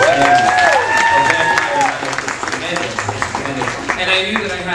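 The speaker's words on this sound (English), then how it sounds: "Give yourselves a big round of applause for being big fans" Convention fans applaud at a Vampire Knight panel at San Diego Comic-Con, a loud burst of crowd clapping with cheers and whistles over it, thinning as it goes.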